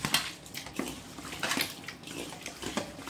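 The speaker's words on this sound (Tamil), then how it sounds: "எல்லாத்தையும் சேர்த்து சும்மா ஒரு உரசி நல்லா உரசிட்டு கழுவிடும்." Raw mutton pieces rubbed and washed in water with turmeric and salt, giving close, wet squelching and splashing with clinks of a pot and a few irregular scrubbing strokes.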